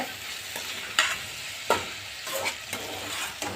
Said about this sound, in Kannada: ಲೈಟ್ ಲೈ ಫ್ಲೇಮಲ್ಲಿ ಇಟ್ಕೊಂಬಿಟ್ಟು ಫ್ರೈ ಮಾಡ್ಕೊಳ್ಳಿ